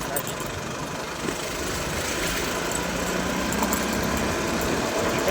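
A motor vehicle engine runs steadily at close range, a constant mid-level hum and rattle that neither rises nor falls.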